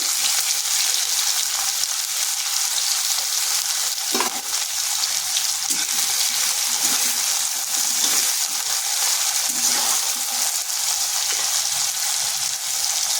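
A large chopped onion with black cumin frying in hot oil, a loud continuous bright sizzle and crackle that holds steady throughout, with faint stirring scrapes underneath and no talking.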